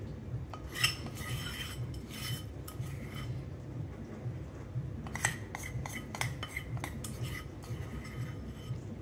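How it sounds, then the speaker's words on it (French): A spoon scrapes and clinks against a bowl while flower petals are stirred into melted chocolate, giving irregular bursts of metallic scraping over a soft, quiet background. "il faut vraiment bien mélanger pour que toutes les pétales soient enrobées de chocolat"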